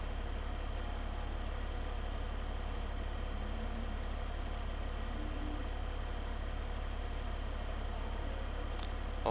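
A tractor engine in Farming Simulator 15 drones at a steady low idle-like hum while mowing grass, unbroken and even throughout, with a faint click at the very end.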